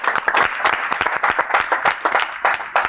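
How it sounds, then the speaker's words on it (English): An audience claps for dancers at a modern-meets-traditional dance challenge, a near, uneven patter of individual claps in a loose rhythm that never merges into a smooth roar. "A round of applause."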